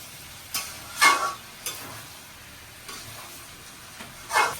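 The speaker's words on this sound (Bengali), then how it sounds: "আমি ইঁচড়টা দিয়ে দিলাম তেলের ভিতরে এখন ভালো করে এটাকে আমি কষাই নেব" Young jackfruit fries in oil while being stirred: a low steady sizzle punctuated by a few loud, brief scrapes and clatters of a spatula against the pan, close up with no talking.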